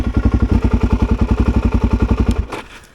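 A Suzuki DRZ400 motorcycle engine idles up close with a loud, even, thumping beat, then cuts off and fades into quiet.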